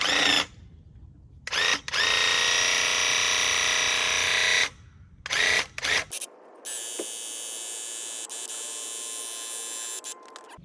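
Graco airless paint sprayer running with its nozzle flipped to clear a clog, loud buzzing motor bursts starting and stopping, then a steadier high hiss-like whine that runs for several seconds.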